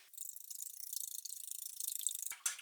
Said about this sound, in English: And you whisk them together, the eggs and oil.